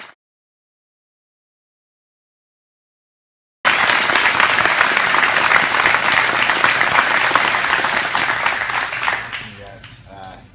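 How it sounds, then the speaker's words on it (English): A BJJ charity seminar audience bursts into loud, sustained applause after a silent opening stretch, the dense clapping holding steady before tapering off near the end. "Let's give Nathan a big round of applause."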